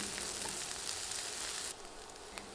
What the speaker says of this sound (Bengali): এবার এগুলো নেড়ে কিছুক্ষণ ভেজে নিব।